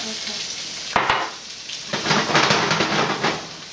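Onions drop into a hot pan and break into a loud, close sizzle that swells and crackles in waves over a couple of seconds. Nobody talks.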